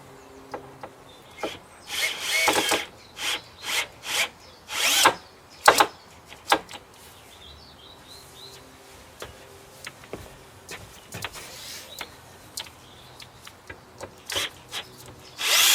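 Close, loud bursts from a power drill driving screws into a wooden bridge for a Japanese tea house, coming in a steady series of short whirs separated by brief pauses and faint handling noise.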